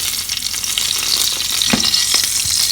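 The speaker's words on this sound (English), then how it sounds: "I've added little more oil and I'm going to do tempering. Some red chilli," Red chillies crackle and sizzle in hot oil in a bowl for tempering, a steady loud frying hiss with a brief stir partway through, close up and without any talk.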